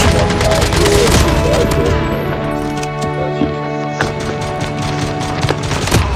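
Dense, loud bursts of rapid gunfire in a shooter video game, with rattling automatic fire and booms filling the whole stretch and easing slightly toward the end.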